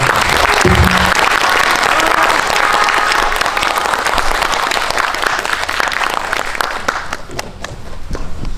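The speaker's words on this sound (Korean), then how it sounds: "오늘 또 수고해주신 세 분에게 큰 박수 부탁드리겠습니다" A crowd at a special film screening with three guests gives a big, dense round of applause, loud and continuous, thinning slightly toward the end.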